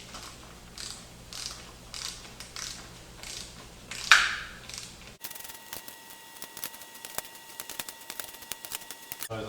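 A wrench torques bolts on an assembled 302 engine, producing a series of soft rhythmic mechanical clicks and ratcheting ticks close up. A sharper metallic snap lands midway, followed by a denser run of small clicks.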